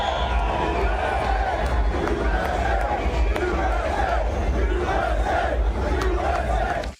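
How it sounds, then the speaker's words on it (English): A large crowd at the Formula One Miami Grand Prix roars and cheers steadily for Donald Trump, a dense, loud, sustained wall of shouting and hubbub that holds for several seconds before cutting off. "Here's how the crowd greeted him."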